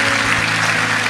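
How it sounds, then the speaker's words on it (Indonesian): Dense, steady applause from an audience in a church, many hands clapping continuously at close range without a break. "sekali lagi berikan tepuk tangan yang meriah buat kami"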